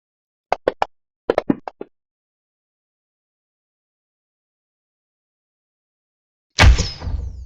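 A few quick clicks and taps, then after a long silence a single sharp metallic dagger hit with a short ringing tail, a Syrinscape sound effect.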